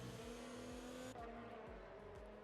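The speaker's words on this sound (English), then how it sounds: "That is the Racing Point of Ferg, looking to go wheel to wheel with the Ferrari of Extreme" Formula 1 race cars in a video game, a Racing Point dueling a Ferrari wheel to wheel, scream past in a loud steady engine whine with repeated gear-shift drops and a brief tire squeal, no talk.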